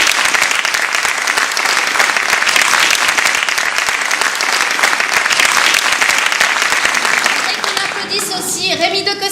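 A crowd at a French event on film music gives loud, dense applause for an accordion player, steady for around eight seconds before a voice begins speaking over the tail of the clapping.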